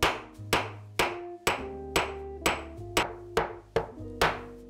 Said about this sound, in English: I hammer roughly on the rivet to set it.